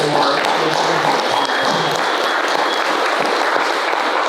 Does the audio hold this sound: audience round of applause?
yes